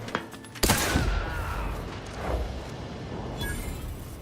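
Gunfire in the sci-fi shooter The Outer Worlds 2, a sudden loud burst of shots followed by a long rumbling echo and fading debris, with a few fainter sharp cracks afterward.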